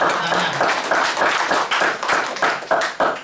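An audience claps at a business talk in Indonesia, with a brisk, fairly steady stream of hand claps from a crowd, moderately loud, with a faint voice under the clapping.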